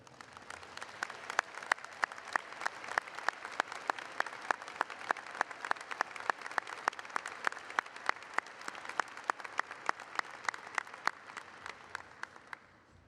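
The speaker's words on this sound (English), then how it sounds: "and applaud each other" Graduates and families at a College of Agriculture and Life Sciences convocation applaud each other, a long, even round of clapping from a large crowd, close and continuous with no talk.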